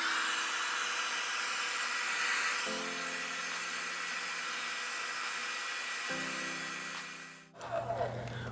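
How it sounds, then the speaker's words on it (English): A steady hiss of a blow dryer on its cool setting, drying hair, runs throughout, with a low hum stepping in and out and a brief rustle near the end. "right now, I'm gonna be using the blow dryer in the cool setting"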